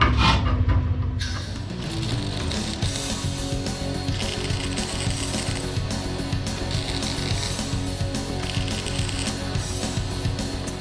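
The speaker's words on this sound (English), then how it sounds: "So I'm gonna weld it so it can't move." Welding a loose spinning part inside the trunk of a 1981 Monte Carlo, a dense continuous crackling buzz that runs loud and steady from start to finish after a short burst at the beginning.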